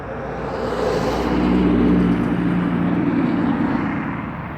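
An ordinary car drives past, its broad rumbling engine and road noise swelling steadily to a peak near the middle and then fading away, loud and close, with no voices.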